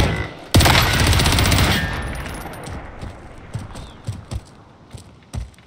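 Hostile gunfire in Call of Duty Warzone (Rebirth, Blood Money quads match): a loud, dense burst of rapid shots, then a run of sharper, separate cracks fading off at varying distances.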